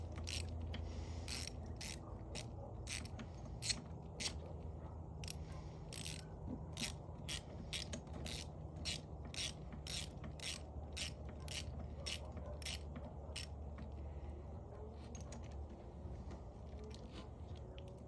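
A ratchet wrench tightens a bolt while a tire and bearing are mounted, giving a long series of sharp, evenly spaced clicks over a low background hum, close and fairly quiet.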